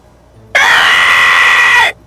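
A cartoon character in an AI-generated Family Guy stream lets out a single loud, sustained scream. It lasts about a second and a half, then cuts off sharply.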